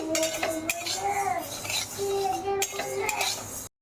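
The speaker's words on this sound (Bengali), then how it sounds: "মুগ ডালটা একটু ভেজে নিচ্ছি" Mung dal being dry-roasted in a pan for khichuri, stirred with a utensil that scrapes and clinks steadily against the metal, close up, with faint speech in the background.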